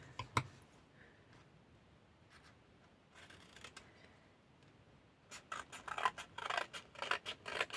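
Scissors cutting photos: quiet, soft snips at first, then a close run of crisp, rapid cutting clicks that grows louder toward the end.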